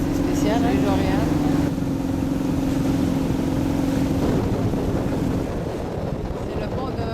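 A boat motoring over open water on a Florida waterway, its steady engine drone continuous throughout under wind buffeting the microphone, while people talk nearby in the first seconds.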